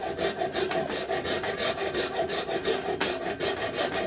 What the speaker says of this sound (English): I'm going to take my hacksaw and I'm going to cut right beside the shaft